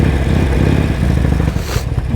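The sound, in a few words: motorcycle engine running roughly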